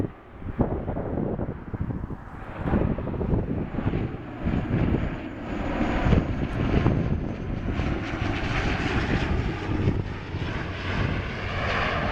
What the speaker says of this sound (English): But we have a Q400 coming in.